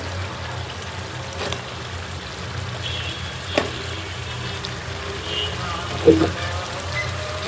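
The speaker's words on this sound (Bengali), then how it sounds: "এখন আবার আলুর সাথে বেগুন গুলা কষানো হবে সুন্দরভাবে" Cubed eggplant and potatoes fry together in a pan, giving a low, steady sizzle that runs throughout, with a few brief utensil clanks and scrapes near the middle and end.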